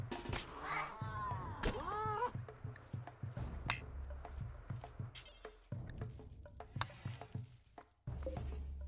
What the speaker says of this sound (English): Oh my god, those killer cats are coming.